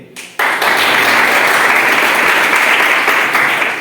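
A crowd bursts into loud, sustained applause after a brief quiet moment, many hands clapping steadily and densely right up to the end.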